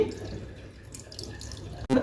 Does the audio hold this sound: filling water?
yes